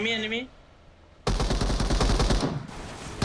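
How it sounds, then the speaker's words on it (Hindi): Rapid automatic gunfire in the mobile battle royale game BGMI, a loud, dense burst of repeated shots lasting over a second, following a brief voice. "तो इधर आते ही हमें गन साउंड आता है, तो उस पे हम लोग सीधा रश कर देते हैं।"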